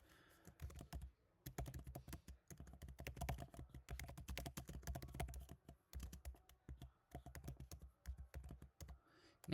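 Rapid clattering keystrokes on a computer keyboard in irregular bursts with brief pauses, close-up and steady over several seconds.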